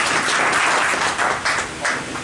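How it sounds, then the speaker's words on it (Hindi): Audience applause at a cooperative credit society's annual meeting, a steady wash of many hands clapping with a few louder swells, continuous throughout. "सब ताली बजाकर इसका स्वागत करें।"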